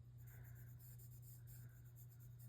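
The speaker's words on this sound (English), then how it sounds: "take your pencil and just kind of add a little, like a light layer of your color" A pencil lays a light layer of color on paper in soft, quiet strokes that repeat steadily over a low constant hum.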